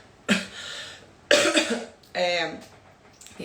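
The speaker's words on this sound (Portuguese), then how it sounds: "no meio da live a pessoa começa a tossir" Someone coughs three times during a live stream, each cough close, loud and harsh, spaced about a second apart with short pauses between.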